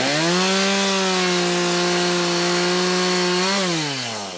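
A power saw cuts timber pieces off a garden room base, a loud, close, steady buzzing whine that holds its pitch, then drops in pitch near the end as the cut finishes.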